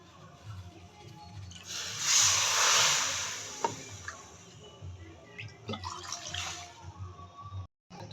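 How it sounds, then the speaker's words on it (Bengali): Water is poured from a bowl into a pot of sugar to make syrup for sweets, a soft splashing hiss swelling for a couple of seconds, then a few faint drips and clinks. "2 বাটি জল দিয়ে দেবো"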